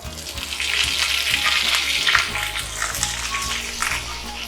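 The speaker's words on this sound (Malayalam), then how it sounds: "ഇനി ഇതിലേക്ക് കരിവേപ്പില ആഡ് ചെയ്യാം." Fresh curry leaves dropped into hot oil with spluttered mustard seeds and dals, giving a bright hissing sizzle with crackling bursts that swells and settles, close and fairly loud, no voices.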